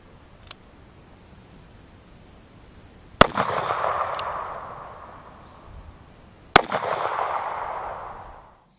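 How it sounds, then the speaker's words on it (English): Two loud handgun shots a few seconds apart, fired at a 1-inch-thick polyurea slab with semi-jacketed rounds, each a sharp crack followed by a long ringing decay, plus a faint click earlier. "I actually missed my first shot. I missed the slab of polyurea."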